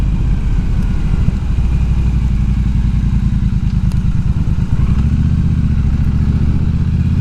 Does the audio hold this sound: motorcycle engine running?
yes